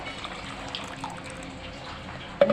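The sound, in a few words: water poured slowly from a jug into rice batter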